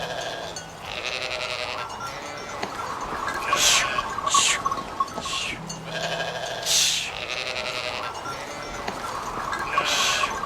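Sheep bleat repeatedly in a flock, several loud, wavering calls a few seconds apart over a steady bed of outdoor ambience with distant bird sounds.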